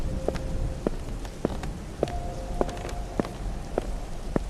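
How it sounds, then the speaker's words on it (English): Soft footsteps fall at a slow, even pace, about eight quiet steps in a row over a faint background hiss, with no voices. "Then I heard footsteps,"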